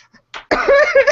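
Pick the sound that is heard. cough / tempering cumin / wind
cough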